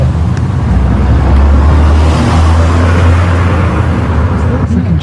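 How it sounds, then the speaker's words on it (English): A car goes by on a road, a low engine rumble that rises and lingers through a loud, windy outdoor scene. "There's a car."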